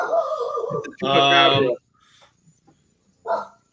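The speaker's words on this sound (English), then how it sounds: "The hell are those dogs thinking barking at this time?" A dog barks in a short burst, loud and close, followed by quieter scattered noises and another bark near the end.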